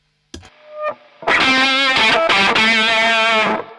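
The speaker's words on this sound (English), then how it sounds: "Very treble boostery into a fuzz kind of sound." Electric guitar through a Walrus Audio Eons fuzz pedal in a treble-booster-style setting: a couple of picked notes, then a loud, sustained distorted chord with a bright, buzzy edge, ringing out.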